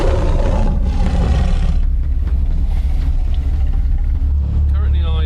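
A track car's engine idles at the Croft circuit, a loud, steady low rumble that dominates throughout, with a brief higher whine near the end.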